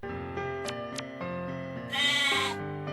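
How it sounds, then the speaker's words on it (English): Sheep in a Yume Nikki-inspired video game bleats loudly, a wavering call over a sustained synthetic drone, with two brief high chimes before it and a bright burst near the end. "I wonder what happens when you interact with the sheep"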